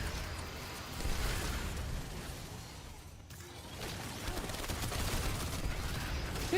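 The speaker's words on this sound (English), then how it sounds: "Here come the annoying turrets." Rapid turret gunfire in a shooter video game, a dense continuous rattle of shots with a brief dip near the middle before resuming at steady loudness.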